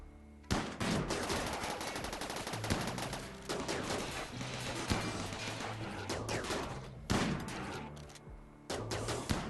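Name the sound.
gunfire shooting at a turret in the video game RimWorld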